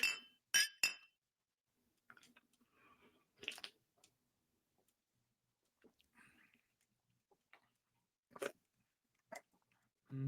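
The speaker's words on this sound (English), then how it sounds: "Echamos un cheer, dude. Clink, clink." Glasses clink together in a casual beer toast, with a few sharp bright chimes close to the mic at the start and scattered lighter taps and clinks following amid near silence.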